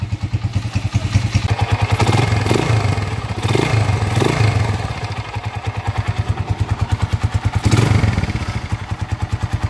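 Honda TMX 155 motorcycle with a 200cc conversion, worn connecting rod, timing gear and rocker arm, idles noisily up close with a steady rapid clattering beat and a few short revs, no talking.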